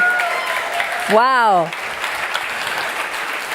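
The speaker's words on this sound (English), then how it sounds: "Please round of applause for this incredible car." Applause from the audience at the BWT Alpine F1 team car reveal, dense clapping sustained under the room while a voice exclaims in a rising and falling tone partway through.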